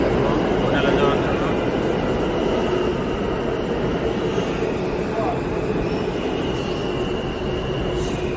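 A New York subway train rumbles loud and continuously through the station, its wheels grinding with a faint squeal, while voices murmur underneath.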